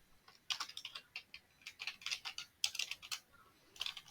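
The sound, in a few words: typing on a computer keyboard while writing an SQL query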